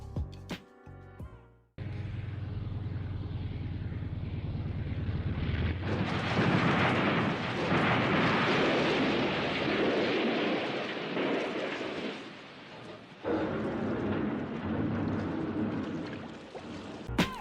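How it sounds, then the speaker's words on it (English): A seaplane comes in too fast and crashes on landing: a sudden roar builds into a loud, broad rushing surge of engine and water spray that holds for many seconds, with no talk. "This seaplane comes in too fast and crashes during landing."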